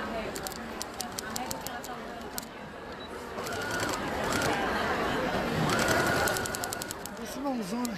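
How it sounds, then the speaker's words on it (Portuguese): Sewing machine stitching yarn in rapid bursts of needle clatter, close by, under someone talking throughout. "E vamos costurar."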